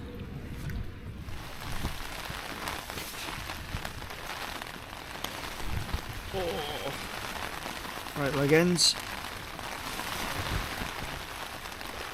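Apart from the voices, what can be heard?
rain falling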